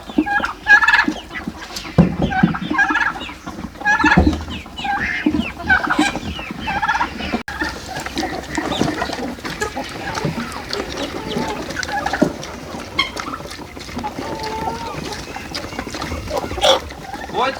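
Farm poultry, chickens and other fowl, cluck, gobble and squawk in a lively overlapping chorus close by, with bursts of louder calls and occasional sounds from other animals.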